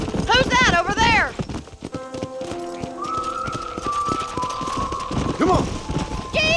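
Horse hooves clip-clopping at a gallop in the Red Dead Redemption video game, a fast stream of hoofbeats mixed with the horse's whinnies and short bursts of talk.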